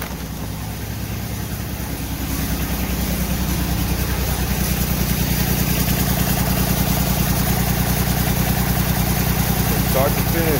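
A Kubota RTV1140CPX utility vehicle's D1105 engine idles with a steady, close, throbbing rumble that holds evenly throughout and grows slightly fuller after the first couple of seconds.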